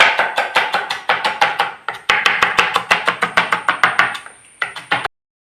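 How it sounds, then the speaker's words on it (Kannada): A knife chops filling for momos on a board in a home kitchen, fast even strikes in two long runs with a short pause between them, close and crisp, then a few last chops before silence. "ಈಗ ಇವರು ಚಾಪ್ ಮಾಡ್ತಾ ಇದ್ದಾರೆ."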